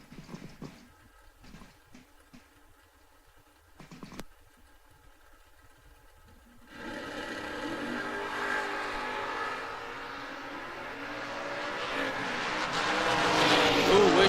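A 2006 Mustang at a drag strip launches after quiet staging, its engine roar rising abruptly and building loudly over the rest of the run, with faint crowd and track noise before it.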